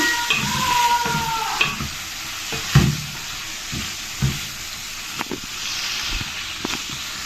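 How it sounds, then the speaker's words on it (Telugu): Salted fish frying in oil in a home kitchen, a steady sizzle and hiss running throughout with occasional soft stirring clatters on top, fairly close and moderately loud, with no voices. "ఉప్పు చేపలను ఇప్పుడు లైట్గా ఫ్రై చేసుకోవాలి."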